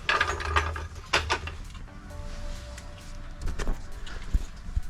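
Car jack lowering slowly under a BMW E53 during suspension work, giving a series of mechanical clicks and ratcheting creaks, close and moderately loud, with a brief faint whine in the middle.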